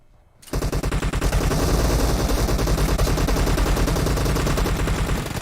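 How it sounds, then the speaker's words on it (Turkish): Rapid, loud automatic gunfire in PUBG Mobile bursts in after a quiet start and runs as a dense, steady stream of close shots to the end, with no talk. "kalabalıktan birbirlerine atış ediyorlar"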